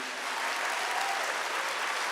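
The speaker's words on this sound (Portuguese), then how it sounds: "Pode aplaudir." Steady audience applause at a Christian testimony talk, a soft, even wash of many hands clapping from a distance, heard alone for about two seconds.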